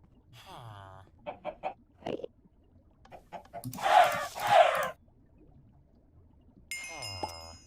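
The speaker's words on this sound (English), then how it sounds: "I forget the sweet sound of killing chickens." Chickens being killed in the Minecraft Stoneblock modpack: a few short synthetic clucks and a pair of louder squawking hurt sounds near the middle, with another cluck near the end, all close, game audio alone without talk.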